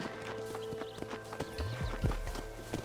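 Horse hooves clip-clopping in a Wild West video game as a rider spurs the mount on, a steady rhythmic trot of close hoofbeats with a low swooping tone and light background sound.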